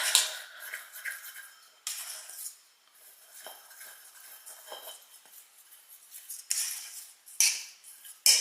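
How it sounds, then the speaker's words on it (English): A whisk rattles and scrapes quickly through dry ingredients and spices for pumpkin cookies in a bowl, making bursts of light clinking and scratching with short pauses between strokes. "Then we're gonna whisk this up a little bit so that all the spices get distributed well."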